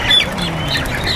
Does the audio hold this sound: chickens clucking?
yes